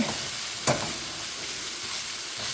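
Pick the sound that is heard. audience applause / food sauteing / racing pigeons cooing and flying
food sauteing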